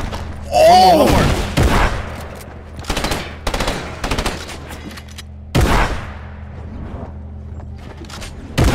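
Rapid shotgun blasts in a Fortnite match, several sharp loud shots in quick bursts with pauses between, over a low steady hum, with people talking excitedly in between.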